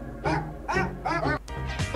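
A dog barks four times in quick succession, close and fairly loud, with short gaps between each bark and no voices over them.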